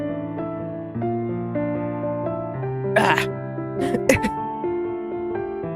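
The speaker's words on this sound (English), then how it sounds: "Got a cough." A person clears their throat and gives a few short coughs up close, two or three brief rough bursts breaking over steady soft background music, with a short spoken exclamation nearby.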